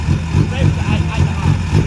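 A Honda K-series engine swapped into a Mini Cooper, held at its 8,500 RPM rev limiter, a loud steady buzzing drone with rapid pulsing cut-outs, close by.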